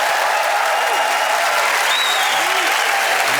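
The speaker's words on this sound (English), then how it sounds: "we should once again applaud tonight's fantastic winner, Alice Levine." A studio audience at a comedy panel show applauds the night's winner, a dense, loud, continuous wash of clapping and crowd noise with no break, filling the room.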